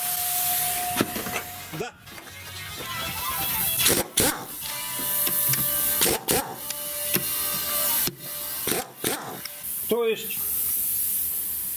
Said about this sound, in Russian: Да, но слышно, что где-то травит.